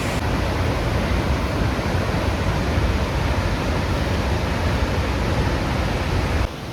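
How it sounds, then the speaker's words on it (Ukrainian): A tall waterfall, about 78 metres high, pours straight out of a rock cliff in Slovenia, making a dense, loud, unbroken roar of rushing water with no voices. "Дуже красивий водоспад."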